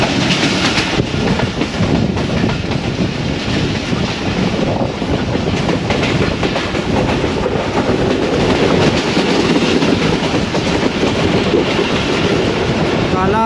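Awam Express passenger train of Pakistan Railways running between Gujar Khan and Wazirabad, heard from on board as a loud continuous rumble with rhythmic clickety-clack of wheels over rail joints and occasional faint squeal.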